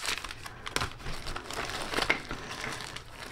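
Foil emergency blanket from a first aid kit crinkles close up, a run of bright, irregular rustling and crackling bursts with no voices.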